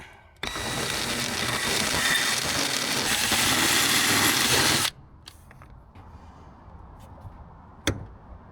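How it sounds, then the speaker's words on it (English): A flat-ended carbide cutter grinds a weld off a brake line flare nut on a 1984 Toyota AE86 Corolla coupe. It makes a loud, steady high whine for about four seconds, then stops, leaving quiet shop noise and a sharp clank near the end. "Flat-ended carbide cutter and try to creep up on the edge of the weld there to get rid of it"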